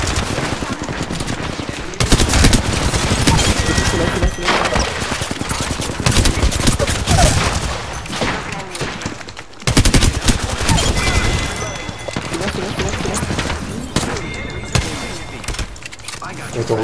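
Dense, sustained gunfire from the battle royale video game Apex Legends, loud and near with rapid automatic bursts nearly continuous throughout, briefly dropping around the middle before resuming.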